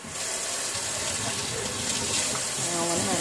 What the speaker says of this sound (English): I don't want to have the water so hot.